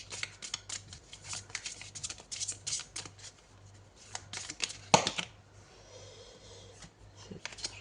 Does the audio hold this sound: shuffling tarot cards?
yes